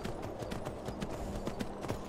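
Horse hooves clip-clopping in the video game Skyrim, a quick, steady patter of faint hoof strikes over a muffled, noisy background.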